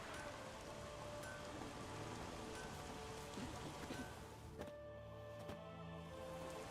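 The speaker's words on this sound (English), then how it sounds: "There's no point standing here in the rain." Rain falls in The Witcher 3: Wild Hunt, a dense steady patter of drops on surfaces, soft and even, thinning briefly near the end with a few faint clicks.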